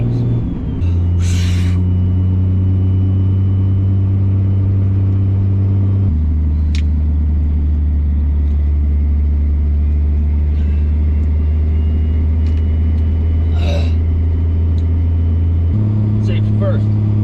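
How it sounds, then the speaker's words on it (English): A service truck drives down the road past crop fields, its engine giving a steady low drone and rumble that shifts pitch at a couple of gear changes, loud and close as if from inside the cab. "Because I'm already driving down the road."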